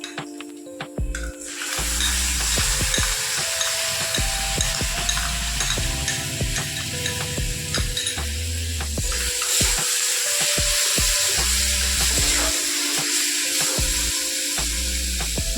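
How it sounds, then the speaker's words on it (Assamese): Spice paste of ginger, garlic and chilli with cumin, coriander powder and meat masala sizzles and is stirred in a pan for pork curry, with steady frying hiss and scraping from close up. "মছলাখিনি এতিয়া মই কেঁচা গোন্ধ যোৱালৈকে অলপ সময় ভাজি লওঁ"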